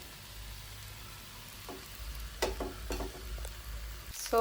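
Egg rice stir-fried in a pan over full flame gives a soft, steady sizzle, with a few sharp spatula scrapes and clinks midway and toward the end.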